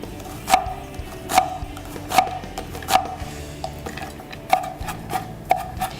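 Onions chopped on a cutting board for a vegan dumpling filling, a steady series of about eight sharp knife strikes roughly one per second, close and crisp, with faint softer taps between them.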